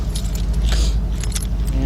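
Car keys jangle close by in a brief metallic shake, with a low vehicle hum beneath and a voice speaking faintly.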